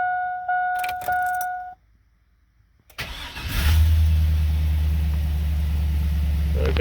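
A Chevrolet Silverado pickup fitted with a cold air intake is started: a few faint clicks and beeps, a brief pause, then the starter cranks and the engine catches into a loud, steady rumbling idle close by.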